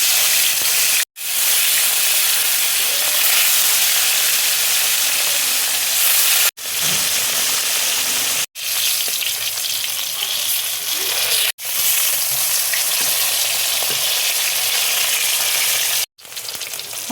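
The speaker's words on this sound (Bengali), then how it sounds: "তেল দেখো গরম হয়ে গেছে, এবার আমি মাছটা তেলের মধ্যে দিয়ে দিচ্ছি।" Rui fish sizzling loudly in hot oil in a pan, a constant dense crackle and hiss broken by a few brief cuts, with no talk over it.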